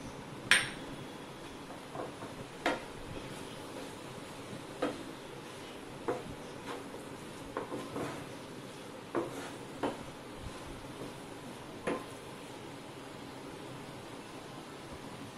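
Onion bhaji mixture with gram flour being stirred in a pan, a series of light, irregular metallic taps and clinks of a spoon against the pan over a faint background hiss, spaced about a second apart.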